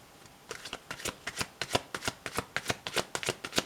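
Tarot cards being shuffled by hand, a steady run of about fifteen crisp, rhythmic riffling flicks, close and clear with no talking.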